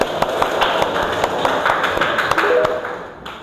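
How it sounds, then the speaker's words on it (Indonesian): Students in a classroom clap their hands together in a quick burst of sharp taps that fades near the end. "Tepuk tangan."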